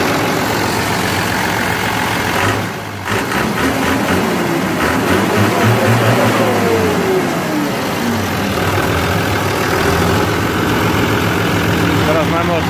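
A Steyr tractor engine idles with its turbo open, making a loud, steady, rumbling drone that runs throughout with only a brief dip partway through.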